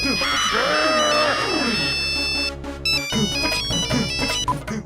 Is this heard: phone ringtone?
yes